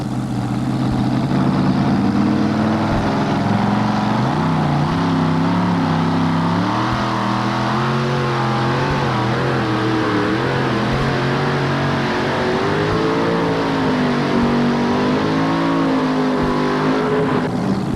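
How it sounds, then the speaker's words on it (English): Two-wheel drive pulling truck revving hard at a 1988 NTPA truck pull in Syracuse, a loud continuous engine roar with rising and falling pitch as it strains against the heavy sled, steady throughout with no talk. "The big sled snaps Floyd Hilton to an abrupt stop at the 265-foot mark"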